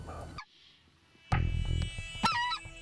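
Geese call as a flock flies in over a California goose hunt, a few honks and gabbling cries at moderate distance, briefly broken by a quiet gap and then resuming louder.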